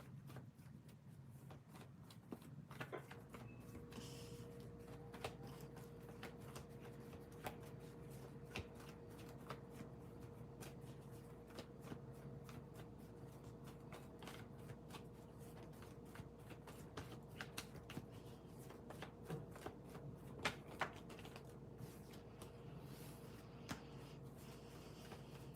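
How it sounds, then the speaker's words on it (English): Tarot cards are shuffled by hand during a live reading, a quiet run of soft repeated riffles and taps with a few sharper clicks over a faint steady hum. No talking. "Sorry, I have to shuffle, guys."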